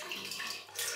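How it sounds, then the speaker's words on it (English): A brief rush of running water gurgling down a sink drain, close and moderately quiet, lasting about a second. "Let the water out."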